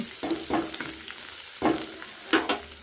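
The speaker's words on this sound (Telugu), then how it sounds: "నువ్వులు వేసుకున్నామండి. నేనైతే ఒక స్పూన్ సుమారుగా మనకి ఎన్ని కావాలంటే అన్నీ వేసుకోవచ్చండి తెల్ల నువ్వులు." White sesame seeds, about a spoonful, dropped into a hot pan and sizzling, with a steady frying hiss broken by a few sharp stirring scrapes and crackles, close and clear with no talk.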